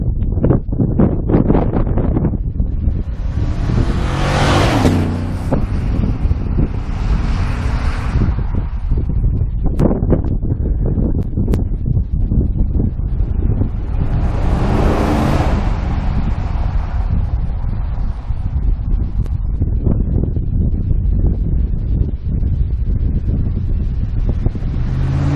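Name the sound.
pickup truck exhaust driving by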